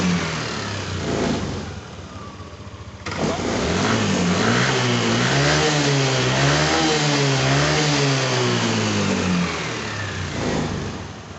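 A Yamaha Aerox 155 scooter engine, just repaired after stalling and rough idle, revs up hard from idle in a loud, sustained run with rising and falling pitch sweeps, then settles back toward idle.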